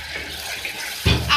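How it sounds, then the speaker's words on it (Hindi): Water is poured into roasted masala for a beef liver dish, starting as a sudden close splash and gush near the end after a quiet lead-in. "अब मैं इसमें डालूंगी पानी"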